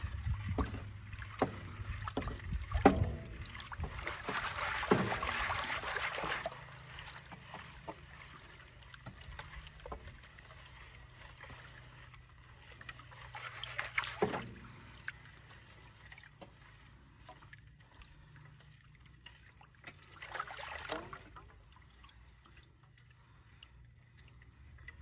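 Water sloshes and swirls in a metal gold pan during gold panning, with soft splashing washes and trickles recurring every few seconds, faint and close, with no talking.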